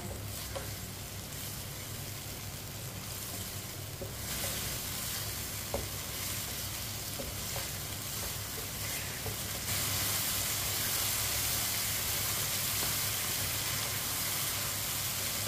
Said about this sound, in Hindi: तीन चार मिनट के लिए गोश्त को पका लेंगे ऐसे ही चम्मच चलाते हुए